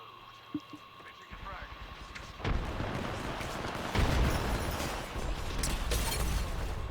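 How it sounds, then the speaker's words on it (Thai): Apex Legends explosions and booming blasts burst out one after another, loud and rumbling, following a quieter stretch with a few faint clicks. "โดนระเบิดอยู่ตรงนี้"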